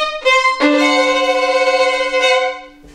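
A dramatic "dun dun duuun" sting sounds as three bold, brassy, held chords. The last chord is long, loud and close, then fades out.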